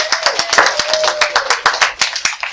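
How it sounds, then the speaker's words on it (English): Round of applause from a classroom of students for a classmate at a math review, with brisk, close hand claps in a dense, uneven rhythm throughout and no talk. "let's give him a nice cheese pickles round of applause."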